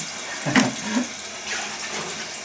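Water running from a tap while grapes are washed for home winemaking: a steady, moderate splashing stream with a couple of brief louder gushes and clinks near the start, heard alone.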